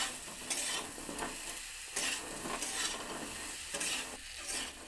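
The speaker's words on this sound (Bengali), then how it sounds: "কুলের সঙ্গে গুড়টা ভালো করে গলিয়ে নিতে হবে।" Jaggery is stirred with a jujube pickle in a pan, rhythmic scraping strokes about every second over a steady sizzle, close and fairly loud with no voices.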